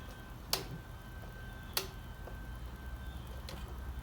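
Mechanical timer on a Harbor Freight parabolic heater (item 62313), a slow, faint ticking with sharp clicks about a second apart over a low steady hum.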